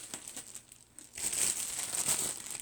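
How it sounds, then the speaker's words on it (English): A slice of whole wheat bread being crumbled by hand: soft, close crinkly tearing and crumbling that grows busier after a brief quiet moment, faint overall. "I'm just going to kind of crumble up one little slice."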